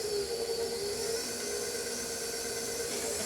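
A stand mixer with a paddle beats gluten-free munn cookie dough, giving a steady, even whir with a faint hiss on top, unbroken and with no voices.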